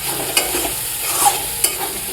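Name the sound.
stirring spice paste with water in a pan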